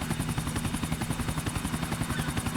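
A helicopter in the video game GTA The Ballad of Gay Tony gives off a steady, loud rotor chop with rapid, even pulses that carry on without a break.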